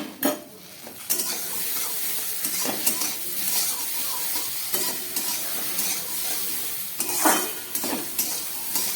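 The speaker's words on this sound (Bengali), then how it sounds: "নুন হলুদ দিয়ে আরও 1 মিনিটের মতো আমি ভেজে নিলাম।" Okra fries with salt and turmeric in a pan, a steady sizzle broken by repeated scraping stirs and clinks of a utensil against the pan, with no talk.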